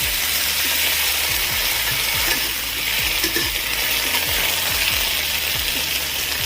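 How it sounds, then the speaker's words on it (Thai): Food stir-fries in a pan just after a splash of water goes in, producing a dense, loud hiss and sizzle with repeated scraping strokes at a rough, steady rhythm. "ผัดนิดนึงนะครับ ใส่น้ำลงไปนิดนึงนะครับ"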